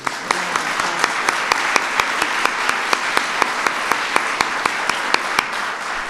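Steady audience applause for First Lady Michelle Obama at a National Science Foundation event, dense and continuous with sharp individual claps standing out, sustained for several seconds.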